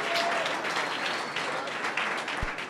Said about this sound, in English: let's give Sean a round of applause for bravery jumping in at the last minute.